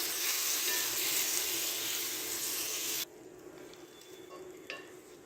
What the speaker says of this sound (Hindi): अब यहाँ पर हम 3 से 4 मिनट के लिए इनको कुक करेंगे